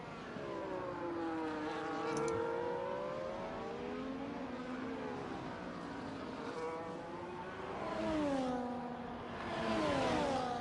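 Racing car engines in a sim racing video game, cars on worn hard tyres: rising and falling engine whines sweeping through gear changes, swelling louder as cars pass, continuous without speech.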